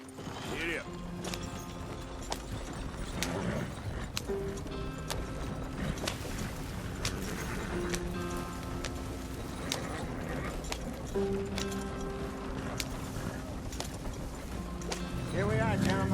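Horse hooves clip-clop steadily in the Red Dead Redemption 2 video game, a continuous rhythmic trot with creaks and mechanical sounds, while voices talk over it throughout.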